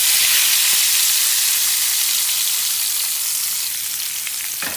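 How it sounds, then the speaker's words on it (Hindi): A hot-oil tadka is poured over Punjabi-style kadhi pakora, setting off a loud, dense, continuous sizzle that eases off slightly toward the end. "तड़का डालते हुए कितना प्यारा साउंड सुनाई देता है ना"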